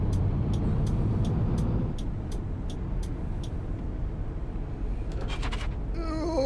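A VDL tour coach in Tourist Bus Simulator slows with a low rumbling drone as a regular ticking indicator clicks along, ending in a short hiss and a brief rising tone.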